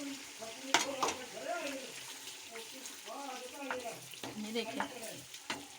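Green chilies dropped into a sizzling chicken karahi, quiet frying hiss with a few sharp crackles and stirring scrapes, while a person talks over the cooking.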